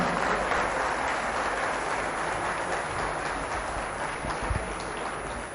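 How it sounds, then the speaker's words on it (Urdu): Sustained applause from a conference audience at an arts council hall, steady and dense throughout with no talk over it. "بہت ساری تالیوں میں جناب انور مقصود صاحب"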